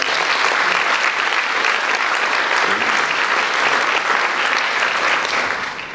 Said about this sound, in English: Could we please give these young ladies another round of applause?